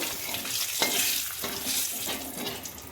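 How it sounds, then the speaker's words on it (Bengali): Radhuni seeds, cumin and bay leaf crackle in hot oil left over from frying fish, a steady close sizzle with soft stirring scrapes throughout and no voices. "ওই তেলের মধ্যেই রাঁধুনি, জিরে, তেজপাতা ফোড়ন দেব"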